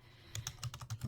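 Keystrokes on a computer keyboard while entering a library catalog search, a quick run of about eight close, crisp taps after a brief quiet start.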